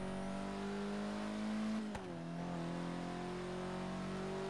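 From inside the cabin of a car in the Forza Horizon 3 racing game, the engine hums at a steady pitch, drops sharply at a gear change midway, then climbs again, loud and continuous without talk.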